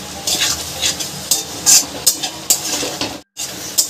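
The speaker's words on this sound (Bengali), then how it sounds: "চিনিটাকে গলা পর্যন্ত আমি এটা একটু নাড়াচাড়া করে নেব।" Sugar being stirred in a hot pan while melting for veg fried rice, close spoon scrapes in uneven strokes over a soft sizzle, with a brief dropout near the end.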